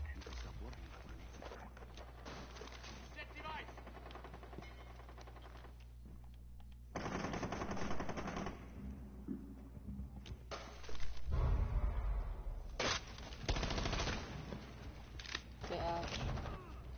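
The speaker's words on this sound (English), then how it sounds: "I shot Ash a few times." Gunfire in a video game round with a biohazard container objective, bursts of shots in several clusters at moderate level, mixed under a voice talking and game sound.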